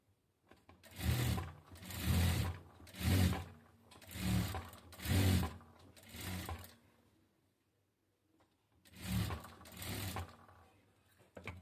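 A sewing machine stitches blouse strips together in several bursts, each a rapid mechanical whirring run lasting about a second, separated by short pauses and a longer gap.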